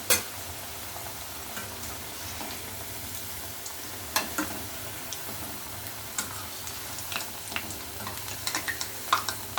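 Bread pakoda frying in hot oil: a close, steady sizzle runs throughout, dotted with sharp crackles and small ticks, with no voices.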